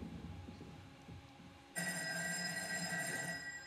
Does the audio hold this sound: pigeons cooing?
no